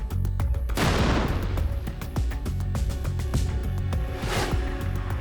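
Shaped charges detonate against stacked armor plates, two heavy blasts a few seconds apart, each a loud broadband boom with rumbling tails, amid crackling debris.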